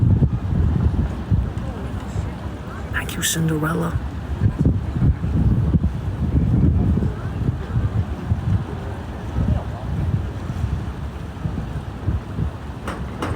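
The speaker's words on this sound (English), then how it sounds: "Can y'all hear the river?" River flowing beneath the Harbin bridge, a broad steady rushing wash heard from above with heavy wind buffeting, a person talking briefly over it.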